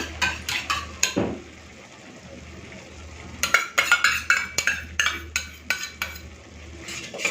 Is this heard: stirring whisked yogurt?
yes